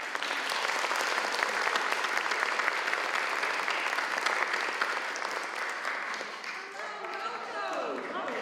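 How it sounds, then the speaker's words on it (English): An audience at a box-lunch talk gives a warm, sustained round of applause as a family is welcomed to the microphone. The crowd clapping is full and even throughout, thinning slightly near the end. "can we have a warm round of applause"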